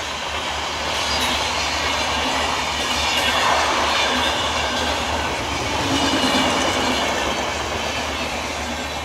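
A passenger train hauled by twin EMD diesel locomotives runs at speed, a loud steady roar of engines and rolling wheels with faint clickety-clack, swelling slightly midway, no voices.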